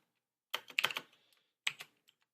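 Self-recorded computer keyboard typing, made as a sound effect for an Unreal Engine 4 game: a quick burst of several close, crisp key clicks, a pause, then a few more taps, heard alone in a quiet room.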